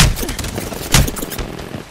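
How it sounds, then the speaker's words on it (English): Gunfire in the video game Apex Legends: loud, dense bursts of shots and impacts crowded together over a couple of seconds, with sharper cracks standing out in the middle. "They spotted me. I'm taking shots."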